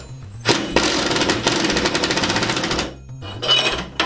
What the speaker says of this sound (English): And then only at that point do you get your impact driver